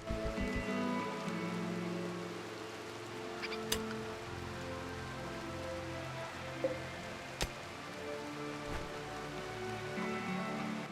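Steady, soft rain patters through a night scene in the colony-building video game RimWorld, a constant even wash with a few faint isolated clicks and no voices.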